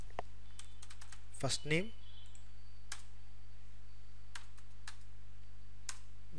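Keystrokes on a computer keyboard click in scattered bursts, some sharp and isolated, while a voice talks briefly near the middle over a steady low hum.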